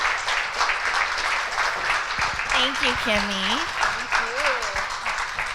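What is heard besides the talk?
audience applause welcoming the MC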